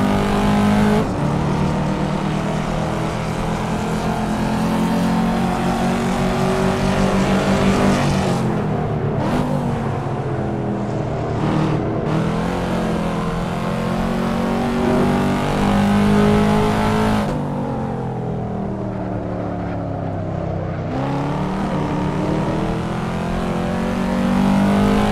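A Porsche race car engine in the Assetto Corsa video game roars continuously, revving up and dropping through gear shifts over and over, loud and close with no voices.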